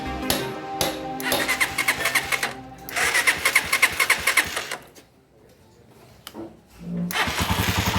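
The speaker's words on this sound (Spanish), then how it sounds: "Y ahí prendió de una." An AKT motorcycle engine is cranked and fires up, with rapid rhythmic starter-and-engine bursts, a short pause into near silence, then the engine catching again and running steadily up close.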